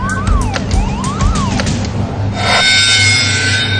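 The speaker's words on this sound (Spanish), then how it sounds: "Él escuchó una serie de alarmas que sonaron justo antes de la primera explosión." Alarms sound on the Piper Alpha North Sea oil platform, pulsing sweeping tones repeating rapidly, joined near the end by a harsher, louder steady alarm over a constant low rumble of machinery.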